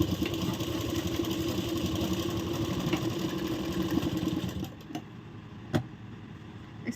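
A sewing machine stitching a blouse, running in a steady fast whirring drone close by for several seconds, then stopping, followed by a single sharp click in the quiet.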